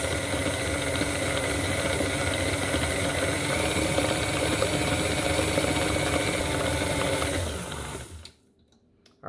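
Electric stand mixer running steadily as it kneads yeast dinner roll dough, a loud continuous motor whir with rhythmic churning, cutting off abruptly near the end.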